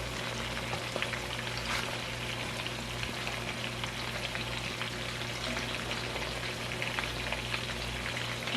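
Beef meatballs for a sweet and sour dish browning in a frying pan, giving a steady, close, continuous sizzle and crackle with no voices.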